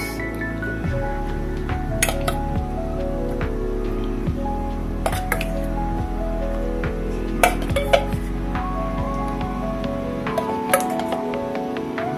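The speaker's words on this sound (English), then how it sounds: "Put the pork knuckle inside. Boil until cooked, guys." A metal pot and utensils clink repeatedly while pork knuckle boils with salted vegetables, sharp irregular chinks and pings ringing out close over a steady bubbling simmer, with no talk.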